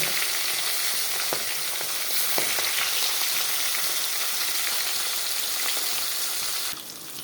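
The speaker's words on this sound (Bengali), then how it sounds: "মাছটা এক পিট ভাজা হয়ে গেছে এবার দুটো দেবো আরেক পিট ভেজে নেব" Large pieces of poa fish fry in hot oil, a loud, even, close sizzle that runs throughout and drops off slightly right at the end.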